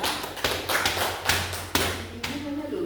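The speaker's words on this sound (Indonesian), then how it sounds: "Kita beri aplaus juga untuk Zaskia." A classroom gives a short round of applause for a student: a brief, close burst of hand claps with some sharp individual slaps, and voices murmur underneath.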